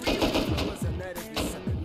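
Rapid automatic AK rifle fire in the survival shooter game Rust, a fast rattling stream of shots in short bursts, loud and near, with a voice over it.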